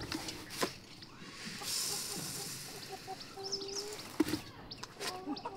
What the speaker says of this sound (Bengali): এটা কিন্তু কক মুরগি